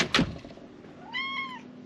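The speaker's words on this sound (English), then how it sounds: "We have a visitor that's been out here meowing." A single short cat meow, clear and fairly close, follows a brief knock, with quiet background otherwise.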